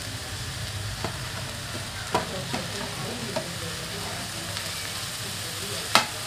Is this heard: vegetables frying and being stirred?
yes